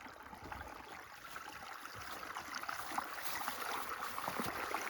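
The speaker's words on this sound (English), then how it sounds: "it's hard to beat a morning out here listening to the water flow" A stream flowing outdoors on a quiet morning, a soft, continuous burble and trickle heard from a little distance, faint and steady throughout.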